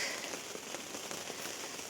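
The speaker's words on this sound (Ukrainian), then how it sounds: "Ой, дощик розійшовся." Steady rain falls outdoors by a garden greenhouse, a dense, even patter of drops close around, with no talking over it.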